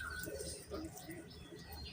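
Madras pigeons coo in low, soft murmurs throughout, mixed with a voice talking over them at close range.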